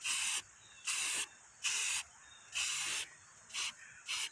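A spray paint can hisses in six sharp bursts, each about half a second long with brief pauses between, as paint is applied to a camper's tongue; loud, close and unaccompanied by talk.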